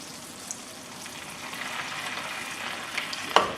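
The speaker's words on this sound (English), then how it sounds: "We'll put the balsamic vinegar in now." Balsamic vinegar hits a hot pan for tarte tatin, a soft steady sizzle building over a few seconds, fairly quiet, ending with a brief sharp clink.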